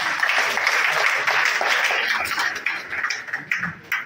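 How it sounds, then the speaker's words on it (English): Audience clapping for a speaker at a water project dedication in a Liberian town, a lively burst of many hands applauding that stays full for a couple of seconds, then thins into scattered claps. "we should clap for him"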